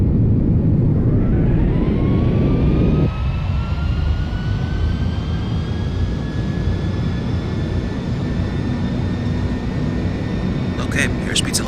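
Airliner jet engines spool up to takeoff thrust in the FSX flight simulator, with a loud, broad rumble and a rising whine that climbs and holds steady. A voice talks over it.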